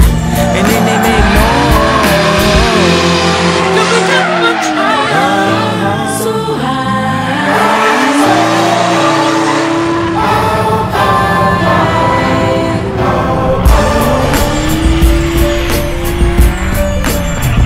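Loud, continuous car engines revving with repeated tire squeals and skidding, like a drift or racing session, the engine pitch rising and falling throughout with sharp squeal bursts and no talk.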